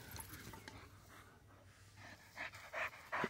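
A dog pants steadily and rapidly up close outdoors in the sun, the breathy rhythm continuing throughout and growing louder toward the end.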